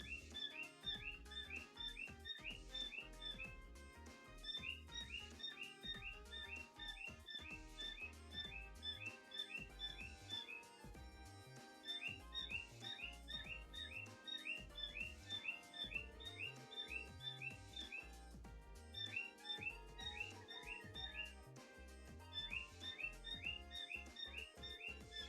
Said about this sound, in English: I am nowhere near those birds, and they are still coming in loud and clear on my microphone.